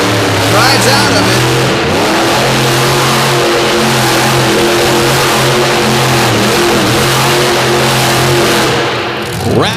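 A monster truck's engine roars continuously at a show in DuQuoin, Illinois, loud and sustained as it spins donuts, with an announcer talking over it.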